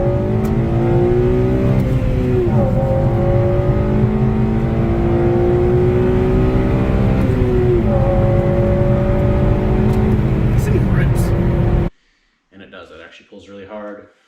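An 8th-generation Honda Civic Si FG2 on a private test track pulls hard through its gears, the engine note rising steadily and dropping at each quick shift, loud and close, before it cuts off and a voice briefly talks.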